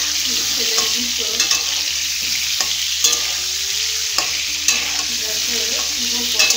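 Sliced pointed gourd (potol) stirred in hot oil in a pan, a steady close sizzle with scraping spatula strokes and light clinks recurring every second or so, no voices.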